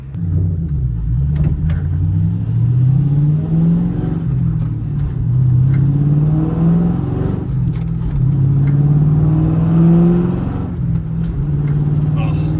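A 5-speed Mercury Marquis accelerates hard on a drive, its engine rumbling loudly and rising in pitch through repeated revs and gear changes, up close and continuous throughout.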